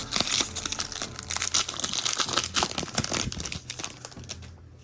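Foil wrapper of a Lord of the Rings Tales of Middle-earth draft booster pack being torn open, close and continuous crinkling and crumpling with sharp rustles, ending in a brief quiet.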